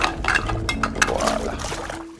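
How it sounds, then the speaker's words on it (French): Salted mashed potatoes stirred in a small toy pot during a toy kitchen play scene, with quick light clinks and scraping rattles of a spoon, close and fairly loud. "on mélange, on remue"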